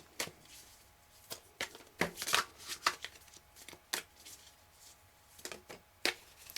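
Tarot cards are shuffled by hand in quick, uneven riffles and slaps, close and fairly quiet, with no speech.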